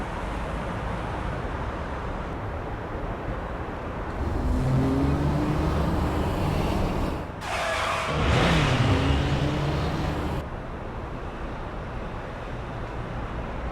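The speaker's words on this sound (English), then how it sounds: "I can hear tires screeching." Car tires screeching during a driving scene in the Guilty Gear Strive video game, a rising squeal over a steady engine and road rumble, briefly interrupted midway before resuming, with no voices.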